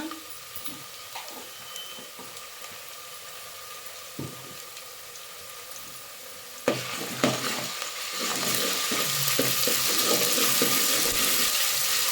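Onion, ginger and garlic frying in oil while being stirred, light scraping and clinks at first, then the sizzle swells into a louder, steady hiss near the end, no voices.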